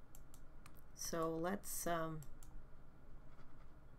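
Quick clicks and taps ring out on a home computer keyboard used to play a game, scattered and close, with a person talking between and over them.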